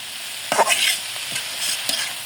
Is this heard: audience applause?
no